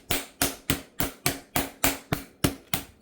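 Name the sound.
mallet hammering and tenderizing turkey breast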